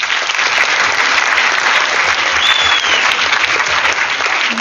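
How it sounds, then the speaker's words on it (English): Loud, dense applause fills a hall at a student toppers' event in Ponda, sustained evenly from start to finish. "Let's have a big round of applause."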